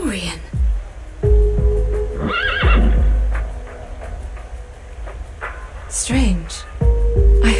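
Several synthetic horse neighs and whinnies in the video game Reverse: 1999 ring out over a dense, rumbling background, with a short talking voice between them.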